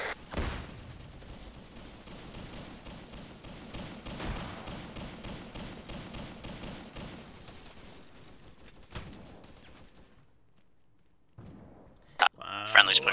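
Sustained gunfire in a Vietnam war video game, with rapid repeated shots and scattered heavier bursts that fade toward a quiet gap before a few sharp loud cracks and impacts at the end; people talk over it.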